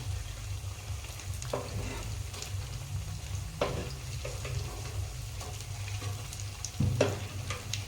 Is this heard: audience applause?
no